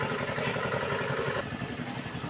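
A large riverboat's motor chugs steadily nearby in a continuous rumbling throb that eases slightly partway through, with no voices.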